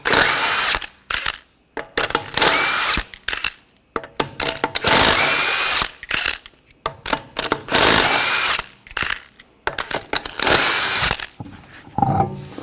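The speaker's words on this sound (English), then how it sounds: "Take the lug nuts off." An impact tool with a 21mm socket spins lug nuts off the wheel of a 2014-2020 Nissan Rogue, in about six loud, whirring, rattling bursts separated by short silences.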